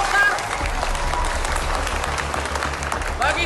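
An Indonesian crowd of workers at a protective-equipment sewing site applauds doctors, a dense wash of clapping heard under a talking voice and a low steady hum, fairly loud and close.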